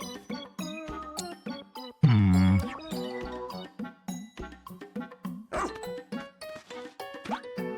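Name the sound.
dog barking in video game Pikmin 4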